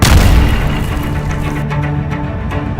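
Bomb and missile strikes in Gaza, a loud, dense roaring blast that rumbles continuously and stays heavy throughout, with scattered sharp cracks toward the end.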